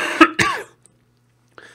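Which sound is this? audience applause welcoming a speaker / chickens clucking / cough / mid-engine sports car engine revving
cough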